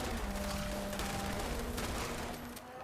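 Continuous loud gunfire from a shotgun against super mutants in Fallout 76, dense and sustained over a low steady hum, easing slightly at the end.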